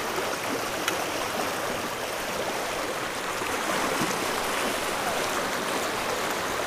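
Stream water rushes over stones in a steady, continuous wash of broadband noise, fairly close and even in level throughout, with no voices.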